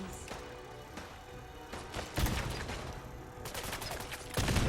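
Grenade blasts going off in Fallout 4 gameplay, with sharp broadband bursts near the middle and end over a steady noisy backdrop of gunfire and mechanical clatter, loud and close.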